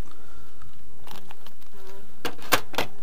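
Honeybees buzz around a full honey frame at the hive, with faint, intermittent wing hum and a few sharp clicks and taps from handling near the end.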